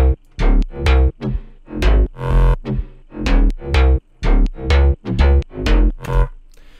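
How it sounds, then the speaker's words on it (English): A G house bass synth made in Serum plays a punchy, bouncing riff of short, loud notes with brief gaps in a repeating rhythmic pattern, heard alone. "So we're going to be focusing in on the bass part here, which sounds like this."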